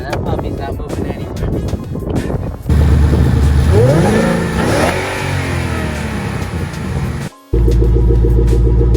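A supercharged 500-horsepower Ford Mustang GT engine revs loud and close, rising and falling through a couple of throttle blips before cutting briefly and settling into a steady rumble, with wind noise and some talk in the background.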